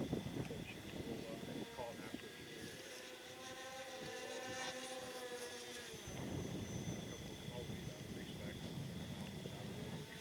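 A Twinstar II radio-controlled airplane on stock motors flies at a distance, giving a faint, steady electric motor whine that rises and falls, mixed with wind noise outdoors.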